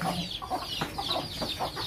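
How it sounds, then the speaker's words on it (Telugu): Chickens cluck close by in short, overlapping bursts, a busy little chorus of fowl. "ఇదిగో కోళ్ళు, ఇంకా చాలా కోళ్ళు ఉన్నాయి"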